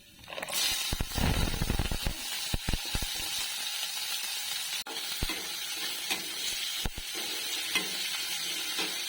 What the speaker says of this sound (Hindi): जीरे तड़कने की आवाज़ आ रही है